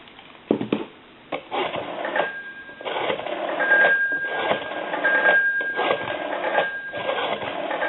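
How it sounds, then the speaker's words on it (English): A steady dial tone from an ITT rotary telephone hums through a narrow, phone-filtered channel, with clicks at the start and muffled noise layered over it. "Give you some dial tone."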